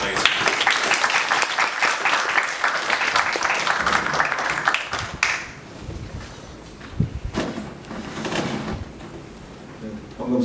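Audience applause at a smart port and global logistics seminar, a dense burst of clapping for the first five seconds that then thins into scattered claps, shuffling and a few knocks.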